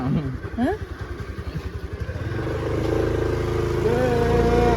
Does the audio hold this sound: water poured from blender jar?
no